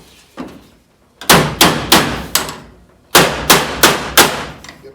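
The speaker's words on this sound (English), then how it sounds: "I think we can just knock that gently." Rust repair panel on a 1970 Dodge Challenger being knocked into place, a series of eight sharp metallic taps in two quick groups of four, close and fairly loud with short pauses between.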